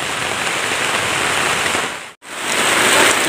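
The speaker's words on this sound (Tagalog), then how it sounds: "Lakas ng ulan ngayon." Heavy rain pouring in the mountains, a loud, dense, steady hiss of downpour on surfaces, briefly cut to silence once before resuming just as strong.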